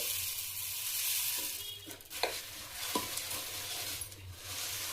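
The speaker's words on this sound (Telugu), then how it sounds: "పాకంలో మురుమురాలు వేస్తున్నాను" Puffed rice being stirred into hot jaggery syrup in a pan for laddus, a soft steady sizzle with a few scraping clinks of the spoon, fairly quiet and without talk.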